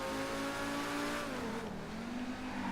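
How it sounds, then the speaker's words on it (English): Lamborghini-like supercar engine in GTA Online revving continuously, a loud, smooth rising and falling engine note with shifting pitch, heard alone without talk. "it sounds like a Lamborghini has some similarity notes to the Need for Speed Lamborghini vehicle sounds"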